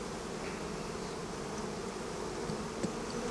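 Honeybees in a hive being dusted with powdered sugar against varroa mites make a soft, steady, continuous buzz of many insects close by, with no talking.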